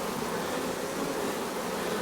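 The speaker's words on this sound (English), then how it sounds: "Look at these bees." Honey bees around a Long Hive give a continuous, fairly faint droning buzz that stays even and unbroken, with no talking over it.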